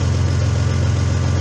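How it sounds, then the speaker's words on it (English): A 1997 Toyota 4Runner engine idling after a rear heater core line repair, a loud, steady low hum close by with no change in speed. "Engine running."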